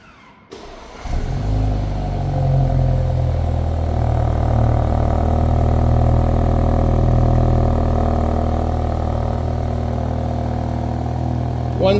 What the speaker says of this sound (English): Let's do a remote engine start, cold start sound test.